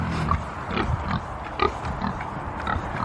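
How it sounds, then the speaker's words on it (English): Pigs on a farm pasture grunt in short, irregular bursts close by, several low snorting grunts over steady outdoor background noise. "And the pigs say hello."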